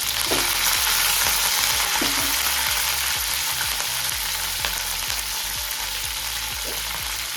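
Green chillies and curry leaves frying in hot oil for khara pongal, a loud steady sizzle and crackle with occasional spoon scrapes, close and continuous, no one talking.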